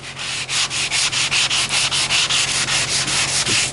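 Abrasive cleaning block scrubbed quickly back and forth across a mild steel joint to strip mill scale before TIG welding, giving steady rhythmic rasping swipes, about four per second, close and loud with no talk.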